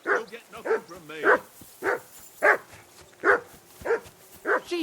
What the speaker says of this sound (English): Henry, that barking's driving me nuts.